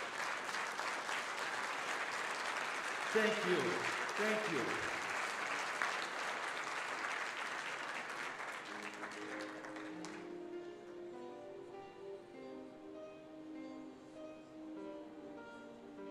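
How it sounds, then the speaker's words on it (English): Applause from an audience in a large assembly hall at a closing ceremony in Vienna fills the space with sustained, dense clapping that slowly fades, while someone speaks briefly over it. "If you are okay, clap your hands."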